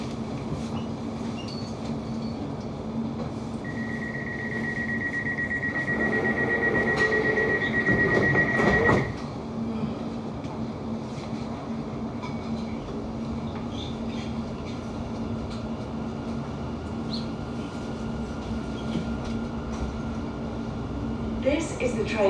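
A London Overground train between Barking Riverside and Gospel Oak rumbles steadily along the rails with a sustained high whine partway through, the hum continuing evenly throughout.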